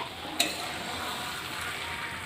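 A grandmother fries and stirs food in a pan, a steady close hiss of sizzling oil broken by a single sharp clink of a utensil, with no voices.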